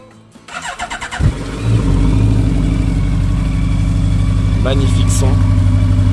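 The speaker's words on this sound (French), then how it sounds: "Bon, allez, je vais la démarrer quand même." A 2019 Honda CB 1100 EX motorcycle with stock exhaust cranks with a rapid starter whir, then fires and settles into a loud, steady idle; someone speaks over it.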